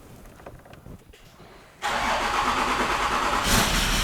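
A rebuilt Range Rover engine cranks and catches, then settles into a steady, loud idle with a brief swell near the end.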